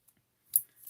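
A couple of quick scissor snips cutting foam tape for a handmade corner-fold card, short crisp clicks close to the microphone in an otherwise quiet room.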